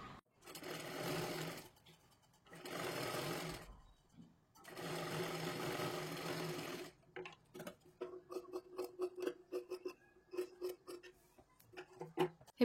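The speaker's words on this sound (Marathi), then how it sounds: "हे पहा अशा पद्धतीने आपण शिलाई मारून घेतलेली आहे" A sewing machine stitches a blouse in three long, loud whirring runs, then gives a slower series of separate ticking stitches and clicks, close up and without talk.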